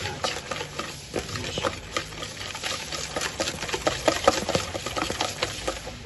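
Chocolate cake batter is stirred in a bowl with quick, continuous wet mixing strokes and soft scraping, close and fairly quiet, with no one talking.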